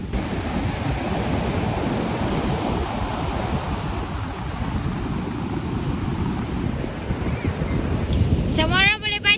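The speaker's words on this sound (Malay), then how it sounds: "Dan ombak pun sangat-sangat kuat." Heavy surf at Tok Bali beach in Kelantan crashes continuously, a dense rumbling wash of ocean waves mixed with strong wind buffeting the microphone, and a short voice near the end.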